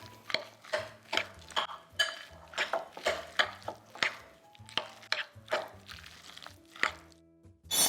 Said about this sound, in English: We're just gonna stir it up really good.